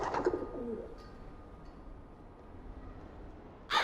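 Pigeons cooing inside an old Soviet building in a video game, a few soft, low coos near the start and then faint ambience, with a brief bright burst at the very end.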